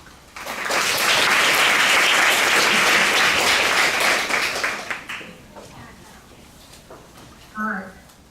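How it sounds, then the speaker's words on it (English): A conference audience at a Women in Data Science event in Taipei breaks into sustained, dense applause for about four seconds, then fades into scattered claps and a brief voice. "Let's give her a warm applause."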